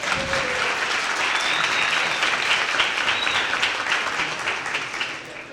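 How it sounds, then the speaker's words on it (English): An audience at a county assessor candidate forum breaks into sustained, evenly dense applause, many hands clapping together at a steady level that tapers slightly toward the end. "Please give them a round of applause."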